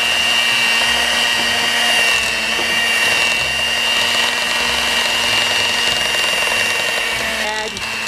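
Electric hand mixer whirring steadily as it beats an egg into pound cake batter for an apple cider loaf, a continuous loud motor drone with faint scraping against the bowl throughout.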